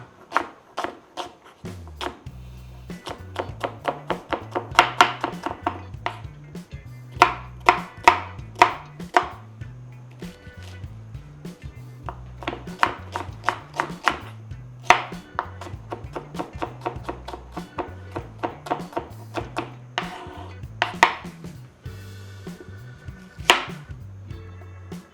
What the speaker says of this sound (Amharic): መኮረኒያችን የበሰለ አትክልቶቹ መካተፍ ጀምራለሁ ማለት ነው።